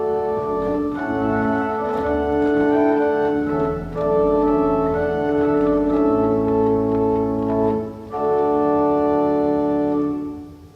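Pipe organ playing on the great manual alone in an opening registration: sustained chords over a steady, full-bodied tone that swell and pause briefly twice, loud and alone with no voices.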